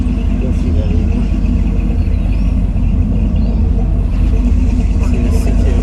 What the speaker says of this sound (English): See the C10 cruising on by.